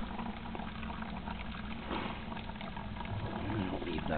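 Water trickles steadily through an ultralight Frontier Pro gravity filter on a backpacking trip, a soft continuous liquid dribble heard close by with no talking.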